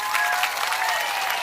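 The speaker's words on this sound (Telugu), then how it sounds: "ఈ విషయం చెప్తామని గట్టిగా చప్పట్లు కూడా చెప్పండి" Crowd applauding at a political public meeting in Kuppam, a dense, steady burst of clapping held at one level throughout with no talking.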